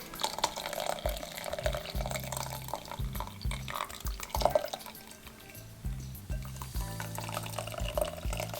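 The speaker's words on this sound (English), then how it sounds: "I'll take it and I will strain it through a cheesecloth and strainer to separate all the solids out of it" Masala chai trickles and drips through cheesecloth and a strainer in a home kitchen, a soft, uneven stream of liquid with intermittent splashes, fairly quiet and close, with no talking.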